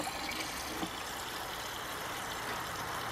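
Water rushes and hisses steadily as the tank of a 1946 Kohler Trylon toilet refills, a continuous close flow with no voices.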